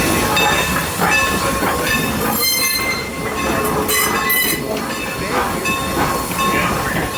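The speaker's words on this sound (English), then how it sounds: "Train number 100 to Petway Valley is now arriving on track number 2." Steam train rolling into a station on a slightly snowy day in Lancaster, a loud close rumble of railcars and wheels with squealing and hissing, under a platform announcement.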